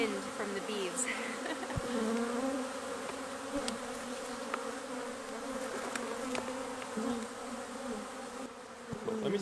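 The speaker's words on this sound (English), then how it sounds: "I'm totally in awe right now of these bees and the sound" Many bees buzz in a continuous droning hum, individual insects swelling louder as they pass close overhead, with soft background noise and no speech.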